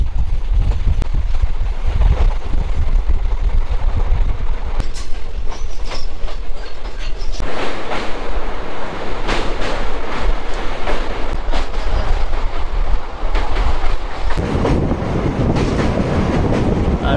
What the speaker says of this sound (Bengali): দারুণ একটা ট্রেন জার্নি কিন্তু আজকে শুরু হয়ে গেল।